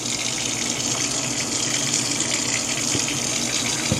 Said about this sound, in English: I'm gonna go ahead and fill this sink up with some soap and water